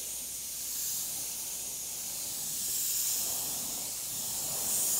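A spray gun hisses steadily and evenly as it lays chameleon paint around the edges of flame artwork on a tank, a continuous close airy spray with no pauses and no voices.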